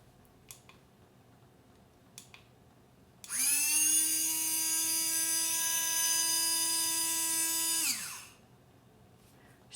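A Temu blender whirs loudly for about five seconds while blending a drink, its steady high motor whine starting abruptly and winding down at the end, with faint clicks before it.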